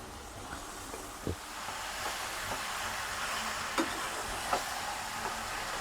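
Chicken pieces sizzling quietly in a hot pan with a steady low frying hiss, punctuated by a few soft scraping stirs and light clinks spread across the moment.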